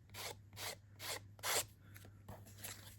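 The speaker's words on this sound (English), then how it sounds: "run my sander down and make sure, make sure I get a nice image" Handheld sander run over paper card stock for a poinsettia fan fold Christmas card, giving repeated rhythmic rasping passes, about six bursts with short gaps, close and clear, over a steady low hum.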